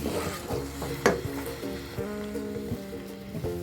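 Roasted moong dal and semolina are being stirred in a pan for Chettinad ukkarai, making a soft scraping and faint sizzling sound with a few louder spoon knocks near the start and at the end.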